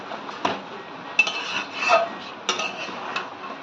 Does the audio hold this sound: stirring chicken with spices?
yes